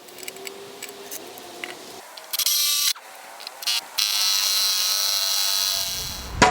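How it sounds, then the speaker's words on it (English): A torque gun drives screws into a downhill longboard deck, with a short ratcheting burst followed by a steady buzzing whir lasting a couple of seconds, close and moderately loud. "If you're using a torque gun like this, it's going to ratchet when it gets down to the bottom"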